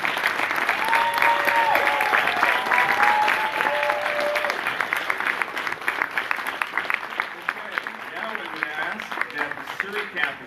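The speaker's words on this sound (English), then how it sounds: "If we could have a big round of applause for the Vancouver campus." Audience applause at a career college graduation ceremony, dense clapping that is strongest early and thins out toward the end, with a voice speaking over it.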